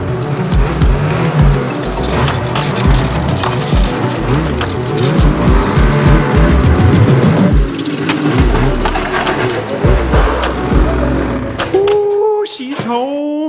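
A 2022 Lynx Rave two-stroke snowmobile engine running, loud and close, with revving, a rising and falling buzzy drone that drops to a lower idle and then sharp blips near the end.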